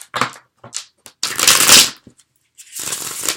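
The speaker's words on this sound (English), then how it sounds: "A little bit of a awkward shuffle." Cards riffle and snap in a few short, uneven bursts separated by brief silences, close and crisp.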